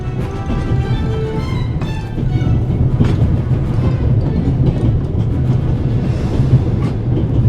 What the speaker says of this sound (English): I need to stop the train as quickly as possible